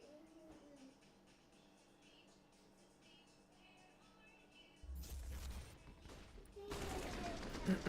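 Gunfire in Counter-Strike 2, quiet and sparse at first with faint background sounds, then bursting into loud, dense rapid shooting in the final three seconds.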